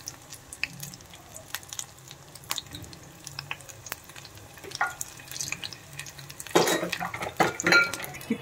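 Pakoras frying in hot oil, a soft continuous sizzle and crackle close by, joined by louder bursts of bubbling and utensil clatter toward the end; no voices.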